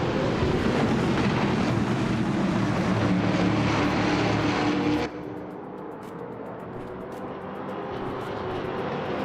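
Race cars roaring at the start of a racing video game at Snetterton 200, led by a 2021 Ford Mustang Trans Am Class car, a loud continuous engine drone that drops sharply in level midway, then rises slightly.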